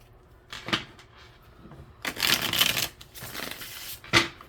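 Tarot cards shuffled by hand for a reading, a few bursts of crisp riffling and papery rustling up close, the longest in the middle, separated by quieter pauses.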